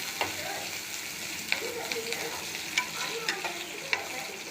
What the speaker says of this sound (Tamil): நல்லா வதக்கிக்கிடணும். கருவேப்பிலை கலந்துக்கலாம்.